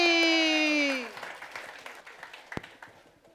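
A church congregation at a Sunday Christmas celebration claps to welcome a children's dance show. A sustained tonal sound fills the first second, then scattered, fairly faint clapping follows for a few seconds.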